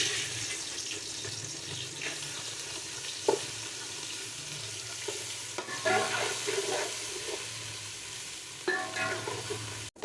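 Garlic paste fries in onion-flavoured oil while a spoon stirs it through, a soft steady sizzle with scraping clinks and occasional brief knocks, fairly quiet and close, no talk.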